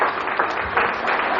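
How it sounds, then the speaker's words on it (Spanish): A church congregation gives God a loud round of applause, broadband clapping that stays steady and fairly dense for the whole stretch with no voices on top. "Dale un fuerte aplauso a Dios"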